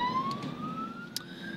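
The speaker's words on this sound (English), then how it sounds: "just a military ambulance driving through here" A military ambulance siren sounds with a steady rising wail as the vehicle passes along a road between checkpoints near Kharkiv, steady and fairly close over low road rumble, with no talking.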